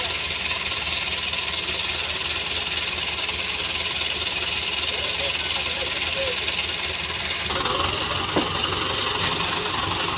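A New Holland 480 tractor engine hauls a sugarcane-loaded trolley, running as a steady, loud, droning chug with a constant mechanical buzz throughout, and a voice talks over it.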